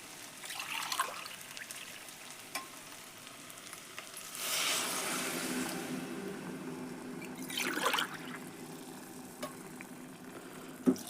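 Two glasses of water poured into a pot of rice in a couple of splashing bursts, with soft sizzling and clinking of utensils between them, fairly quiet and close.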